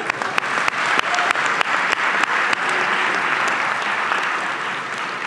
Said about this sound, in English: And for that, you deserve an extra round of applause.